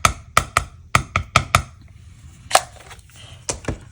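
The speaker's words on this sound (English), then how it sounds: "Just going to ink this thing up here in the Peach Pie." A rubber stamp tapped repeatedly onto a Peach Pie ink pad: quick, crisp taps in an uneven rhythm, about a dozen of them, close and clear, with short pauses between bursts.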